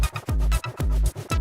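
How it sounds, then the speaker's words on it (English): Electronic track demo with a deep booming kick drum pounding in a steady rhythm, layered with resampled random synth sounds in buzzy, bright stabs, loud and close with no talking. "So you're going to hear a kick drum from the Shepherd's rack"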